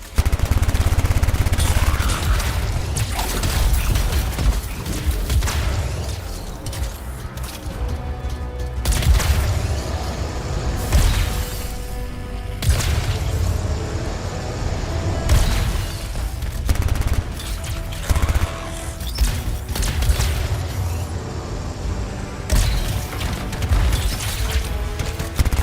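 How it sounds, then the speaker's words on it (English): Repeated booms and crashes from exploding canisters in a video game, loud and continuous, with heavy rumbling blasts and rattling debris throughout. "It'll be a contained explosion."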